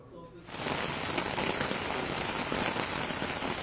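Heavy rain pours down in Jaipur. After a quiet start, a dense, even roar of drops hitting surfaces swells in and holds steady, loud and close.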